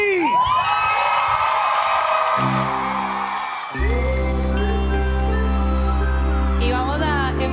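Concert crowd at an outdoor city concert stage cheering and whooping, a loud dense roar with shouts, joined partway by music starting.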